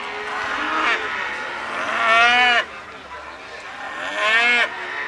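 Simmental cattle at a livestock market in Banyuwangi, two loud drawn-out moos close by, separated by a short pause, with faint background noise.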